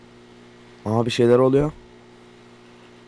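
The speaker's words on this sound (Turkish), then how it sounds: "Bu jeneratör sesi nereden geliyor?" A generator runs inside the horror game Bathroom Dilemma, giving a steady low electrical hum that lasts the whole clip while someone speaks briefly over it.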